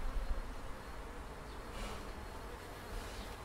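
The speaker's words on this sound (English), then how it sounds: "you can see the buzzing bees now" A steady, dense buzzing of many honeybees at a hive entrance hums close by, continuous and fairly quiet, with no talking.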